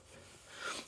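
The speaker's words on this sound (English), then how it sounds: "you could just block sand that, but I'm just going to do it slowly. Just going to work in little circles" Hand sanding over a paint touch-up on a car, worked in small circles, produces a brief, quiet, close rasping rub that swells slightly toward the end.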